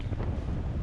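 Strong wind of about 15 mph gusting toward 20 blows across an outdoor deer-hunting spot, a low rumbling buffet against the microphone, brief and continuous.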